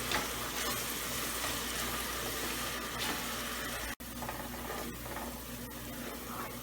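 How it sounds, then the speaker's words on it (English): Onion fries in a pan over medium heat, giving a steady close sizzle with faint stirring and one brief dropout partway through. "So now I'm going to let it cook onion for around 5 to 6 minutes"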